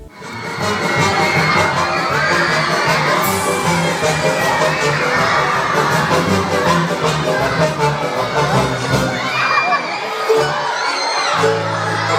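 A theatre audience at a children's musical fairy-tale show, the Rivne regional academic music and drama theatre, applauds and cheers loudly and continuously, with children shouting and whooping throughout.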